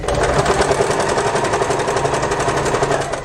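A sewing machine fitted with a presser foot stitches fabric along its edge in a fast, steady mechanical chatter that runs loud and unbroken throughout.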